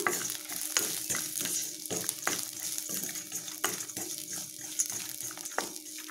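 Onions, green chillies, cashews and chopped coconut sautéing in a pan for chicken parotta salna, with steady sizzling and regular scraping stir strokes, close and moderately loud with no talk.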